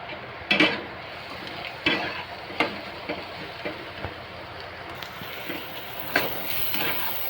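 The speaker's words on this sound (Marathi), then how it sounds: "चांगला भाजून घेऊया कांदा." Onion fries and sizzles steadily in a pan while being stirred, with a soft continuous hiss broken by occasional scraping knocks of the spoon.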